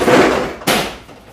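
A door being opened indoors during an electrician's home visit, giving a short creak and rustle followed by a sharp knock or bump as it swings, then a brief fading rattle.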